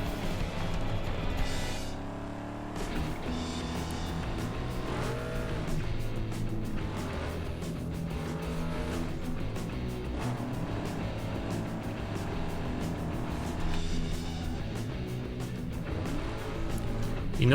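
A tuned car in Need for Speed Underground 2 accelerates hard on a test run, its engine note climbing and dropping through gear changes, loud and continuous throughout.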